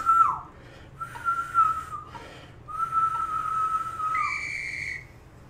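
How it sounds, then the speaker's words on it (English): A person's loudest possible whistle, delivered as several sustained shrill blasts near the listener with brief gaps between them, ending on a higher pitched final blast, over light background noise. "That's the loudest whistle I can do."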